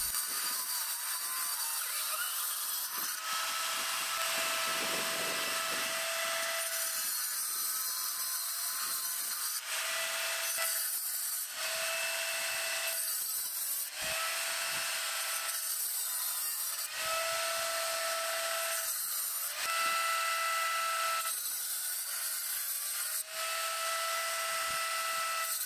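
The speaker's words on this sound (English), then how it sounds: "I start out by cutting the 3 main pieces from the slate tile and then trimming away the excess." A tile saw grinds through slate tile, cutting out pieces and trimming away excess, with a loud steady abrasive whine that rises and dips as the blade bites in, repeated cut after cut with no voices.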